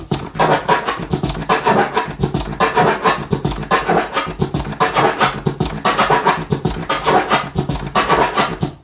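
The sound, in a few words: turntable scratch over kick and snare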